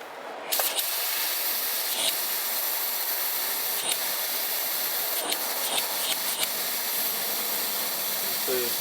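Compressed air blasts at full pressure through a vehicle's transmission cooler line, a loud continuous rushing hiss broken by a few sharp spurts as the flow sputters.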